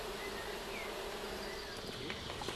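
Honey bees in hive boxes give off a continuous, steady buzzing drone, close but low in level, with no talk.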